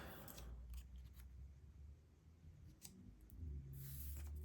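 Scissors cut fabric pieces out by hand in a run of quiet, close snips, spaced irregularly and followed by a longer crisp slicing stroke near the end.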